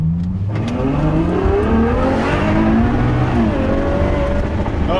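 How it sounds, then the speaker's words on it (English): A Ferrari GTC4Lusso V12 fitted with a Ryft exhaust revs loudly and continuously, its pitch climbing and falling in smooth sweeps close by, with no talking over it. "Did you hear that V12 just singing?"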